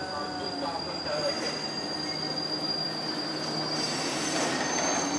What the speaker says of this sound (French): ça c'est le RER, d'accord.